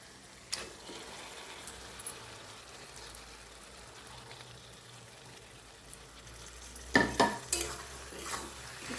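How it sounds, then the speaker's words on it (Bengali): Marinated chicken gets stirred into tomato masala in a pan over a low flame, with soft sizzling and scraping. Faint stirring scrapes come first, then a cluster of louder spoon clatters against the pan near the end. "চিকেনের সঙ্গে এখন সব কিছু ভালো মতো আমি মিশিয়ে নিচ্ছি।"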